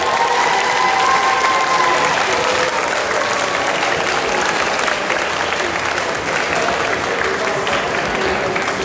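Loud, sustained applause from a large crowd at a school Independence Day contest, steady clapping filling the whole stretch with some faint cheering mixed in.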